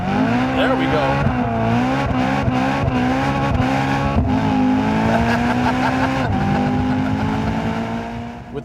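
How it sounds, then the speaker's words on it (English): A 2011 BMW M3 Competition Package with M Performance Pack, stability control off, revs hard and loud, its engine note rising and falling in sustained pulls with brief dips between, alone and close throughout. "Rev up, there we go."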